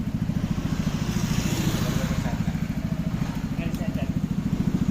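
A motorcycle fitted with a 100-watt light runs close by, its engine throbbing steadily as the throttle is blipped, with a fast regular pulse throughout.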